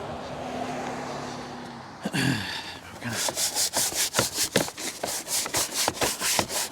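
A stiff tire brush scrubs the tire of a Chevy Colorado during a wash, with quiet ambience and a brief scrape first, then a rapid run of loud, rhythmic back-and-forth strokes close by.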